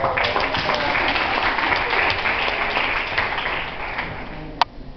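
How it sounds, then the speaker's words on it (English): Audience applause at a youth leadership session rings out steadily and loudly for the full stretch, a dense wash of many hands clapping together that holds even and fades only slightly near the end. "Give her a big round of applause."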